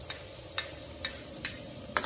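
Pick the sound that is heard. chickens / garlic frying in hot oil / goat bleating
garlic frying in hot oil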